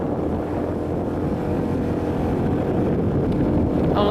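A vehicle engine strains at full throttle while climbing a steep road in Taiwan, a steady loud drone with wind rush, no talk heard.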